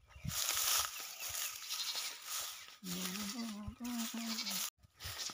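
A farm goat bleats at close range, a wavering cry lasting a couple of seconds, set against outdoor background noise and brief rustling.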